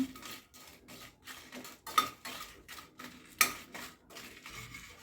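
Red chillies, Kashmiri and round varieties, dry roasting in an empty pan, heard as intermittent scraping stirs and sharp clinks of a spoon on metal, with quiet gaps between strokes.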